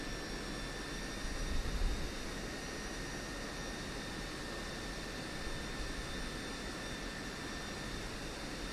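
F-16C Viper jet engine idling as the fighter taxis in DCS World, a steady, faint whining hum with high tonal lines and no change in level throughout.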